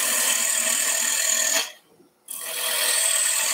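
A gouge cuts hard boxwood turning on a wood lathe, giving a loud, continuous rasping shear. It drops out briefly for a moment midway, then resumes.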